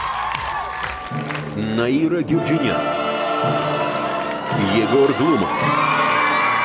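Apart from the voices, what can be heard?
audience applause and cheering welcoming the jury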